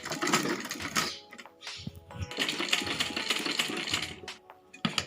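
A sewing machine stitches a Rajputi kanchali blouse, its rapid clattering needle running in close bursts with short pauses between runs.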